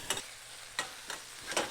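Chicken fries quietly in a pan, a soft sizzle punctuated by three or four sharp scraping stirs spaced about half a second apart.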